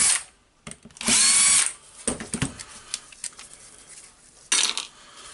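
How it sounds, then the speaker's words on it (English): Motor housing screws come out of a Makita UC4020A chainsaw with a power driver, heard as sharp, loud whirring bursts mixed with metallic clinks and small rattles of loose parts. "So we need to unscrew all 4 screws."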